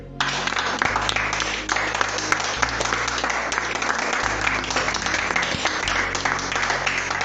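A congregation at a church service breaks into loud, continuous applause and acclaim for the Lord, a dense wash of clapping from a crowd with low music sustained underneath.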